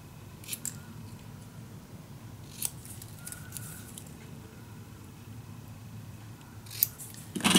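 Scissors cut through patterned craft paper for a handmade magic box, with a few quiet, scattered snips and a louder cluster of cuts at the end.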